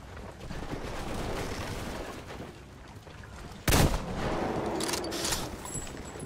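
Gunfire in the Metro Exodus video game, a single sharp loud shot cracking through a rumbling background of game noise, with a few faint lighter sounds after.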